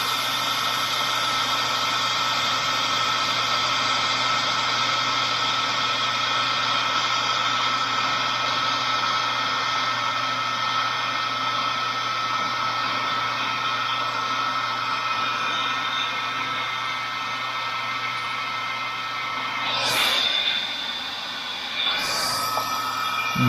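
A heat gun blows a steady, droning hum while shrinking heat-shrink tubing on the alternator wiring of a 1974 Dodge Charger, running continuously before two brief bumps of handling noise near the end.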